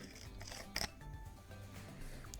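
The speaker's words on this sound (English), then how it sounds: "I'll open it with my scissors" Scissors snip once, briefly and quietly, through the plastic seal on an item from a beauty subscription box, with a soft room hush before and after.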